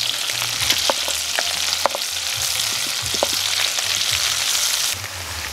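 Ginger, onion, garlic and chili sizzle steadily in a hot pan, a bright continuous crackle with scattered ticks and scrapes from stirring.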